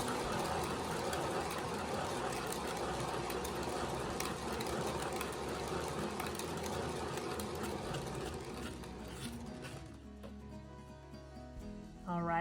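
A motorized spinner turns a canvas of poured acrylic paint for a fluid-art bloom made without Floetrol, giving a steady mechanical whir that weakens and winds down near the end.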